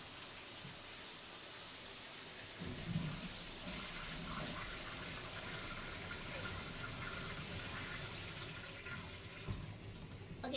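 Water pouring from a bathroom tap, a steady hiss and splash that runs continuously at moderate level with faint shifts in flow, no talking over it.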